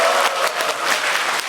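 Loud, dense applause from a lecture-hall audience welcoming a records-studies professor to the stage, a continuous roar of clapping filling the whole moment.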